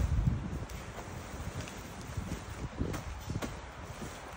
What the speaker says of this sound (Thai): ลมดีจังเลยหรือว่าลมหนาวอ่ะ